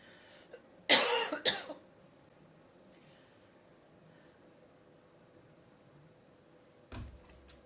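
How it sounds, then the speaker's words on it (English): A couple of sharp coughs close by in a quiet room, followed by silence and a faint thump later. "He's just coughing."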